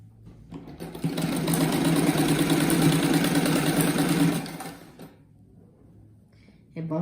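A sewing machine runs in one quick, steady burst for about four seconds while joining patchwork strips for a rag rug, then stops, leaving quiet room sound and a brief restart of motor hum at the end.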